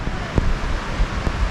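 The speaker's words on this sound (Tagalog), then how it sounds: "Lakas na naman ng hangin" Strong wind buffets the microphone on a Mindoro motorcycle loop as a storm approaches, a loud, steady low roar with gusty surges and thumps, no voices.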